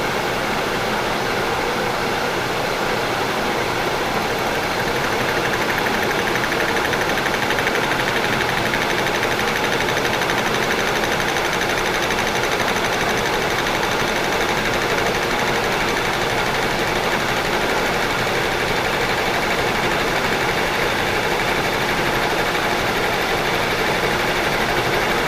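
A milling machine spinning at 720 RPM cuts metal at a 5.3 inch-per-minute feed, a steady, dense, broadband machining whir held at constant loudness for the whole stretch, with no talk over it.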